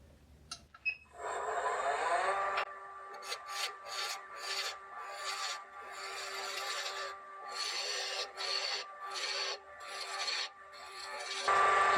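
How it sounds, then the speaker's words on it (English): A spindle roughing gouge cuts wood turning on a lathe while making a knock-out bar, giving a close, steady scraping rasp with rhythmic surges as the tool passes along the spindle, with no talking. "now we can use our spindle roughing gouge a bit, but then we're probably better off using a spindle gouge"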